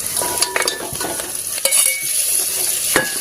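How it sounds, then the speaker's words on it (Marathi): Stuffed brinjals fry in an open pan, with a continuous sizzle broken by sharp clinks and scrapes as they are stirred and turned. "वांगे छान परतून घ्यायची"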